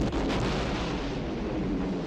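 The Death Star's superlaser fires at Alderaan in Star Wars, a dense, booming roar that starts with a sharp onset and then sustains as a heavy rumbling blast through the short stretch.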